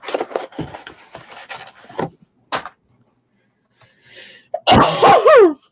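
A single sharp sneeze bursts out near the end, after a few scattered short noises and quiet gaps, close and loud in an indoor room.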